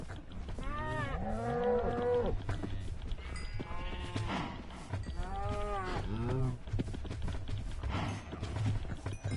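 Cows in Minecraft Bedrock Edition moo repeatedly in a farm herd, several overlapping drawn-out calls at a steady pace, fairly loud and close with no talk.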